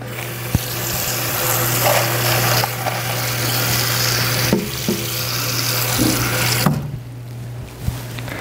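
Running tap water pours steadily into a cooking pot nearby, with a constant hum underneath and a few clanks of metal.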